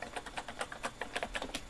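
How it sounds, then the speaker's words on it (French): Fast, light keystrokes on a computer keyboard while configuring a Cisco network setup, a steady run of close, quiet clicks with no talking. "On fait entrer au clavier pour reprendre la main"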